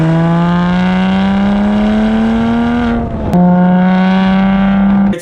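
Porsche with straight-pipe exhaust revving loudly up close, the engine note climbing and holding, a brief drop and blip near the middle, then holding high again before cutting off.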